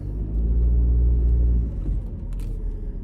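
A car engine rumbles low and close while driving in traffic, swelling briefly then settling into a softer steady drone.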